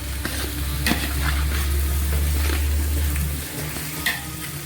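Tomatoes frying in a pan for biryani are stirred, with a steady loud sizzle and scraping strokes of the spoon, and an occasional sharper clink; no one speaks.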